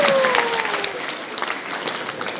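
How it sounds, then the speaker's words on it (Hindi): A workshop audience breaks into clapping, a dense burst of applause that starts loud and tapers slightly over a couple of seconds, with a brief voice at the start. "इसके लिए तो पहले ही ताली बजा दो"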